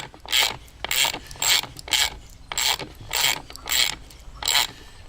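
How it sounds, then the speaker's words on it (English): A bolt slid through module alignment T-nuts is cranked tight with a ratchet, seven steady clicking strokes in even rhythm, close and clear with no voices. "I take my bolt, slide it through, and tighten it up."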